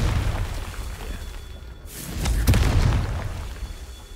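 Confringo spell blast in Hogwarts Legacy, a sudden booming burst midway with a sharp crack and rumbling tail over a steady background of game ambience.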